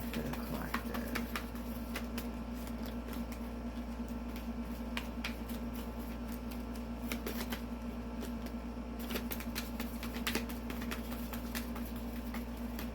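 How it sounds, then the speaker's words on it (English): Tarot cards being shuffled by hand during a reading: a steady run of crisp papery riffles and taps across the whole stretch, close and fairly quiet, with a low constant hum underneath and no talking. "Two more shuffles, then I'm going to take off the top."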